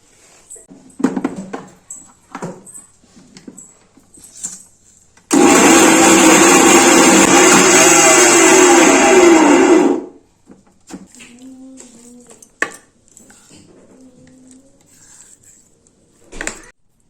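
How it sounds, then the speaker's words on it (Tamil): A kitchen mixer grinder whirs loudly and steadily for about four and a half seconds, grinding spiced minced-meat ingredients for kaima vada, with quiet handling clatter before and after. "எல்லாம் மிக்ஸ் பண்ணி மிக்சியில் போட்டு அரைக்கவும்."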